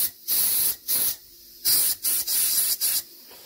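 Food cooking in an Afghan kazan gives off repeated sharp bursts of hiss, about six close, loud spurts separated by short quiet gaps, with no talking.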